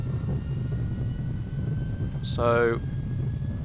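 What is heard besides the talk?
Airbus A320 max reverse thrust after landing, X-Plane 10 video game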